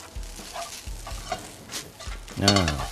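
Egg and thin rice noodles sizzle in hot oil in a wok while a utensil scrapes and stirs in a few quick strokes, ending in a louder burst of frying.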